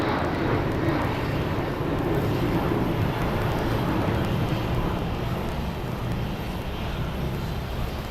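Airplanes take off at Phoenix Sky Harbor airport, with a constant, loud, broadband jet engine roar that fills the whole stretch, helped by wind rumble on the microphone.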